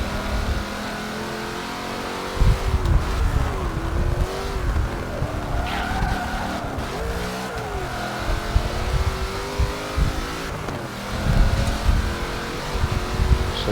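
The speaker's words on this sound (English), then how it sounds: "Hear this Enzo come past." A Ferrari Enzo racing car in the Forza Horizon video game roars past with a loud, continuous engine howl, its pitch rising and falling through gear changes, with tire squeal over a sustained racing backdrop.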